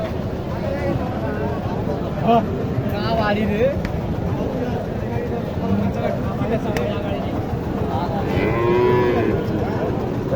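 A cross-breed heifer moos loudly a few times amid a noisy outdoor crowd at a cattle market in Naogaon, with people talking throughout.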